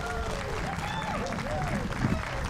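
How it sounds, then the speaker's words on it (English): Audience applause at an outdoor port renaming ceremony at the Port of Rochester on a cold afternoon, a steady spread of clapping from a gathered crowd at moderate distance, with voices and crowd noise mixed in throughout. "So an applause for Mayor Johnson."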